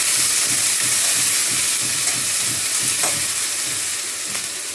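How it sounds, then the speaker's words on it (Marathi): Onions sautéing with a spoonful of cumin seeds in oil for a matar paneer masala, a steady close sizzle with soft stirring scrapes throughout, no voices. "चमचाभर जीर आहेत ते टाकते तेला. आणि हा सगळा कांदा परतून घेते"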